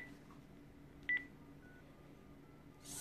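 Telephone keypad dialing tones while a caller dials back a number: two short, quiet beeps close together, then faint tones and near silence with soft background hiss.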